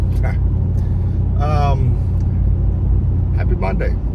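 A car cruising along North Carolina Highway 98 on a Monday morning commute, with steady low road and engine rumble running loud and unbroken throughout while a person talks over it.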